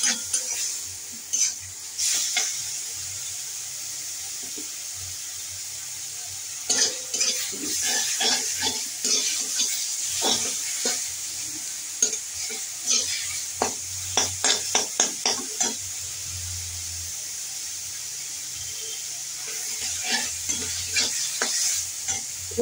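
Ground cumin masala frying in a pan, stirred with a spatula in scraping bursts over a steady sizzle, with quieter stretches between rounds of stirring; close and alone.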